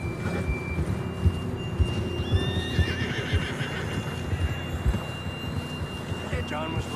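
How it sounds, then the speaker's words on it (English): In Red Dead Redemption 2, a horse whinnies over steady hoof clip-clops, with outdoor ambience and a faint voice in the background. "John was riding that horse when we left Blackwater."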